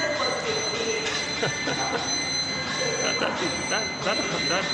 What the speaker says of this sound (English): It's making this loud beeping sound.